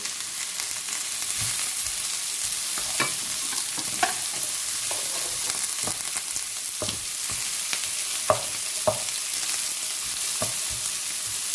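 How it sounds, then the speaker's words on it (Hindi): Chicken pieces with carrots and colorful vegetables stir-frying in a pan, a steady loud sizzle with repeated scraping stirs and occasional utensil clicks throughout, close up and without speech. "अब इसको हम हल्का हल्का फ्राई कर रहे हैं।"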